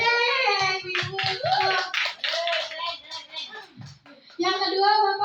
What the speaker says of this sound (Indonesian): Boleh tepuk tangan dulu deh.